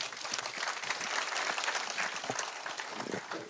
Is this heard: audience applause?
yes